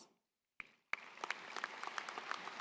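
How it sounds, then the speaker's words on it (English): Graduation audience at a high school commencement breaks into applause after a near-silent pause, a sharp onset followed by steady, moderately loud clapping from a large crowd with scattered distinct claps. "let's give ourselves a round of applause."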